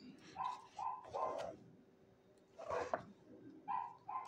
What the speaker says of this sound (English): there goes the big dog now.